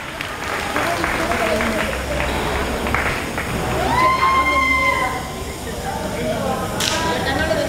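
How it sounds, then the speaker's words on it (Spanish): A crowd claps steadily for a mother at a 2012 food-pantry handout event, the applause continuing under someone talking over a loudspeaker. "Aplauso para la mamá."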